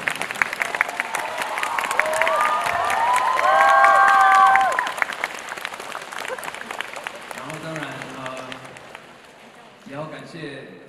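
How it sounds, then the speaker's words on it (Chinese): A concert audience at a Nanjing tour show claps and cheers, the applause swelling loudly before fading away. A voice then speaks over the quieter hall. "我觉得这个真的要给他们非常多的掌声"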